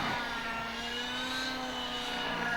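A steady mechanical whine and drone of a computer-controlled helicopter flying aerobatic maneuvers, sustained and fairly distant, with a faint rising pitch.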